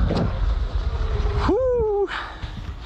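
A Sur-Ron Light Bee electric dirt bike strains uphill, its motor rising into a tonal whine with a steep upward glide that holds briefly and then cuts off, over steady wind noise and rough ground rumble.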